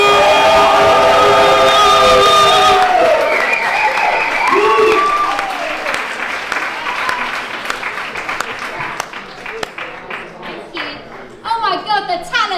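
Loud applause and cheering from a large crowd, with music and voices underneath, the clapping fading somewhat then swelling again near the end.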